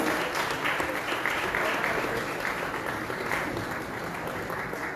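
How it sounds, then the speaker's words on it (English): Sustained applause from an audience welcoming a guest at the inaugural event of the Goa Open Innovation Challenge 2025, dense and steady throughout without pause. "A big round of applause."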